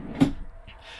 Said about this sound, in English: Full depth drawers too, meaning you can get to the back of the drawer.